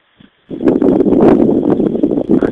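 Small wind turbine with blades cutting into the wind at average speed, a sudden loud rushing whoosh with fluttering buffeting that starts after a brief quiet moment and holds steady.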